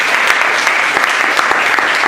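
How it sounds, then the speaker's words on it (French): Loud, close audience applause at a cultural entrepreneurship event, a brief burst of dense, even clapping with no voices over it. "Donc on peut applaudir ce jeune homme."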